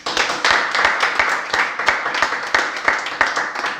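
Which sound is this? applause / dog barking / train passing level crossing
applause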